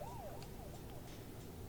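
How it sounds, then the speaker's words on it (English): Police car siren in Euro Truck Simulator 2, a continuous wailing rise-and-fall tone sweeping past at moderate level over steady engine and road rumble, with no talking. "That police car actually went past me with the lights on."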